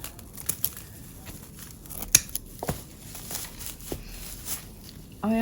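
Scissors snipping and tearing through Christmas tinsel decorations, a quick series of close, crisp cuts and crinkles spread irregularly across the moment, with a brief voice at the end.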